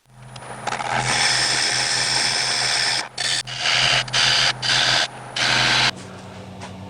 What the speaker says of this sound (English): Finished sanding the bottom.